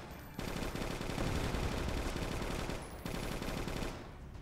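Automatic rifle fire in the zombie shooter Left to Survive, a dense, sustained burst of rapid shots that runs almost the whole time, loud and close, with a brief break near the end.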